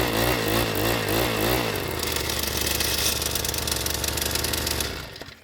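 A small engine runs after carburetor repair, chugging loudly close by, then shifts to a higher, rougher steady pitch before cutting off abruptly at the end.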